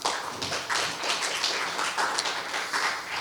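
A seated audience claps at a forum session in Chuncheon on the Soyang River Dam and the local community. The clapping is steady and moderately quiet, made of many close individual claps, and lasts the whole stretch.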